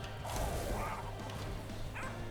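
A dog barks a few times in the Monster Train video game, short game-sound yips over a steady low musical and mechanical background.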